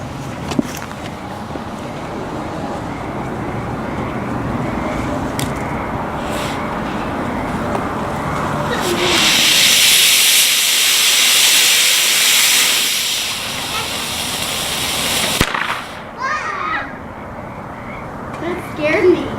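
A small rocket motor with a 3/16 inch pressed nozzle fires in a test burn, a loud rushing hiss that swells for several seconds and then cuts off, with outdoor background noise and voices around it.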